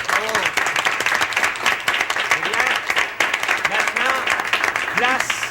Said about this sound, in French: On applaudit votre président.